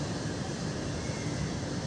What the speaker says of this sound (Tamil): ஃப்ளைட்டு லேண்டிங்கும் தெரியும் போல